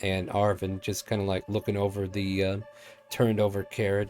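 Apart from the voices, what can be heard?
No everyday noises stand out.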